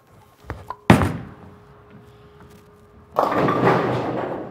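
Urethane bowling ball thrown on an oily house-shot lane, a sharp thump as it lands, then a quiet roll, then a loud sustained crash of pins.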